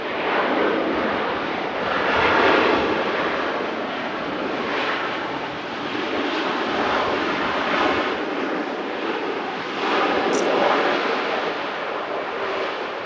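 A jet airliner lands at Manchester Airport, its loud, continuous engine roar and rushing wind noise swelling and fading as it passes close by outdoors, with no talking.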